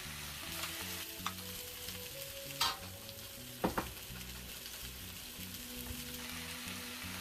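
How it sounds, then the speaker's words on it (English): Steady crackling sizzle of onion, green onion and thyme frying in a pan, with a few sharp clinks of a utensil stirring against the pan. "Now I'm going to start out by frying up my vegetable."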